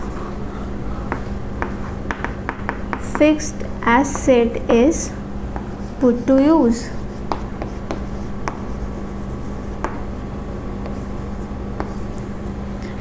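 A marker writes on a board during an accounting lecture, making short scratchy squeaks in a few clustered strokes beneath continuous talking from the lecturer.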